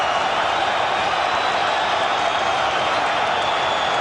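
A boxing arena crowd roars steadily and loudly between rounds of the George Foreman versus Evander Holyfield fight, a dense wash of voices with no distinct breaks.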